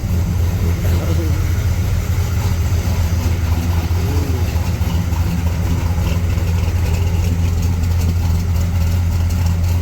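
A 1965 Chevrolet Impala engine idling close by, a loud steady low rumble that holds throughout, with a voice faintly audible beneath it.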